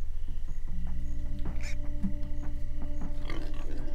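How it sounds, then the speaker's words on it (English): Pigs in the Minecraft Story Mode video game give repeated synthetic oinks and grunts, several calls in quick succession over a steady low game hum. "Hey, all pigs but Rubin, shut up!"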